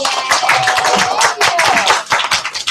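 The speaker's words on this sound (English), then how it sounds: "can we give our guest a warm Central round of applause, please?" A school class applauds a visiting school board trustee candidate, a dense burst of many hands clapping close by for a few seconds, with a faint whistle-like tone running through it.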